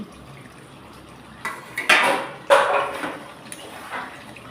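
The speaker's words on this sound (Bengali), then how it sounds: "এখন ঢাকনাটা খুলে নিচ্ছি" A lid lifted off a pan of chicken cooking on the stove, giving a few sharp metallic clanks and scrapes, including two louder knocks close together near the middle and a softer one toward the end, with no talking.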